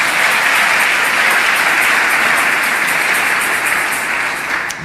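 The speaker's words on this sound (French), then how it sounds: "Acclamez pour vous-même" A church congregation bursts into loud, sustained applause: dense, even clapping from many hands that holds steady for several seconds before easing slightly at the end.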